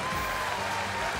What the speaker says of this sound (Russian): Вот аплодисменты всех присутствующих.